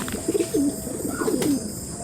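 Domestic pigeons coo from a home loft in low, rolling bursts, two clear phrases close by over a steady background hum, with no talking.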